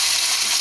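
Pomfret fish frying in hot mustard oil, a brief steady bright sizzle heard up close without any voices.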